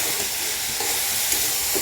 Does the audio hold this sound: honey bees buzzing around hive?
no